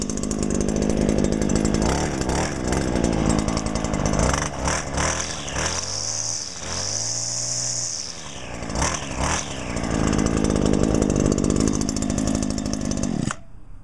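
A small two-stroke trimmer or blower engine revs hard several times, its high buzzing whine surging and falling back to a rough idle between bursts, close and loud.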